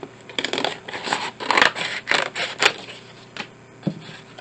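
Scissors cutting through paper and card for a grungy handmade journal cover, a run of close, crisp snips and rustling slices in an irregular rhythm, alone without talk.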